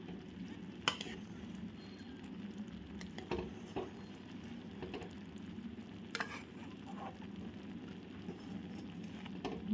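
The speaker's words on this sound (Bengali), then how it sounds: "মাঝে মধ্যে এই চারপাশ থেকে হালকাভাবে নেড়ে দিচ্ছি।" Mango pickle bubbles in thick jaggery syrup in a pan, a low steady simmer under occasional light stirring scrapes and taps, faint and close, with no one talking.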